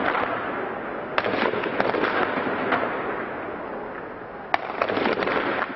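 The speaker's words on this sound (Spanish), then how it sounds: "Son los disparos de los partidarios de Mubarak contra los opositores al régimen." Rapid cracks and pops of automatic weapons gunfire echo at a distance over a steady background rumble, coming in irregular bursts during a street shootout between Mubarak supporters and opponents in Egypt.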